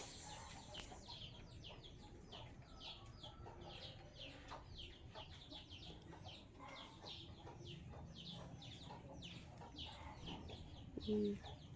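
A flock of chickens clucks repeatedly at a distance, a busy scattered chorus of short calls, with a faint voice briefly near the end.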